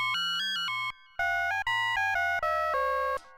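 Soviet-era Polivoks synthesizer playing a short melodic phrase of bright, bell-like tones, with a low note coming in beneath the later notes; about eight notes, each a clean sustained step, loud and alone after a brief gap.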